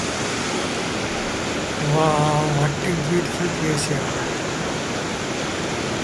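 A fast-flowing mountain stream in Darjeeling, a steady broadband rush of water heard throughout, with someone speaking briefly over it.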